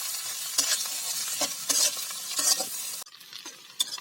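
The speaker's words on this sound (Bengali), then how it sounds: "সাথে আলু দিয়ে দেবো। লবণ দেবো। ভালো মতো ভেজে নেব।" Potatoes frying with salt in a pan, loud sizzling broken by repeated scraping strokes of a spatula stirring them, the sizzle dropping away sharply near the end.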